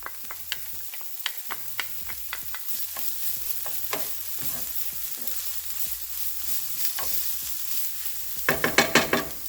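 Garlic and cauliflower rice fry in a pan while being stirred, with a steady sizzle and repeated scraping taps from a utensil, ending in a louder burst of clatter.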